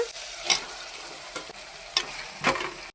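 Chicken goes into a frying masala paste with a soft, steady sizzle, punctuated by several sharp scraping stirs of a spoon against the pan. There is no talking.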